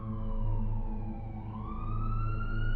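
A steady wailing ambulance siren sweeps slowly up and down, fairly faint and heard alone with no talking.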